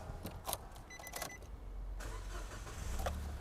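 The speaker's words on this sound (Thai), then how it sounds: "แจ็คเดียวติดเลยนะครับ เสียงยังนิ่มนวลเลยนะครับ" A 2016 Nissan Almera engine cranks briefly and catches, settling into a quiet, smooth idle after a few clicks and rustles nearby.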